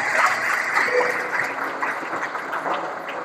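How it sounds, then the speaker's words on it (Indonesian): Applause from an audience of hundreds of pesantren students at a motivational seminar at Nurul Quran, Bogor, a bright continuous clatter of clapping with no one speaking over it. "Boleh berikan tepuk tangan penuh berkah hari ini."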